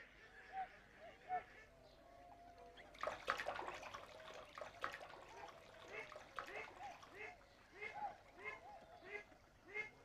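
Someone splashing about in water while swimming; a burst of louder splashes comes in the middle, then lighter, scattered splashes, with a voice and other soft sounds around them.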